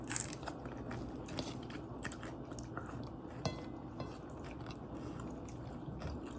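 Crunchy food bitten and chewed up close during a Filipino mukbang meal, with repeated crisp crunches and soft chewing over a steady background hum.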